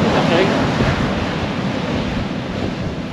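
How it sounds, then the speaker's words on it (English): Strong wind buffets an exposed East Coast sea shore at Tunstall during a fishing session, a loud steady roar with surf mixed in, continuous and unbroken throughout. "The power of the wind."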